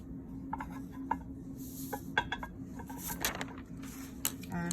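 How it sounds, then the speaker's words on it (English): Pages of a document flipped one after another, a series of quick papery swishes and flicks at an irregular pace, close by over a steady low hum. "I'm just going to flip pages here"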